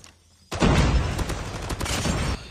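Gunfire in a video game, a sudden loud onset after a quiet moment followed by a sustained volley of rapid shots with sharp individual cracks, fairly close, cutting off near the end.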